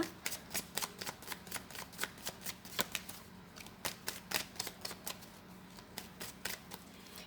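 Tarot cards being shuffled and laid down, a steady run of crisp, close riffling snaps and flicks in an irregular rhythm over a faint low hum, with no talking.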